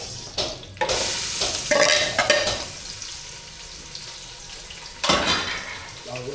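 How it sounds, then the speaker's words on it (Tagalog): Chicken adobo browning in its own rendered fat in a pan outdoors by a river, with loud sizzling and clattering stirs and utensil knocks in bursts, then a quieter steady fry and another burst near the end. "Lutuin natin sa mantika niya"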